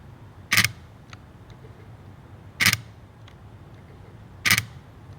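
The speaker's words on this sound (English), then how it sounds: "some of us love the sound of a shutter" A Nikon Zf camera shutter fires three times, each a crisp, close mechanical snap spaced about two seconds apart against a quiet room background.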